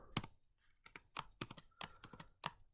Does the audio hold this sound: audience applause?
no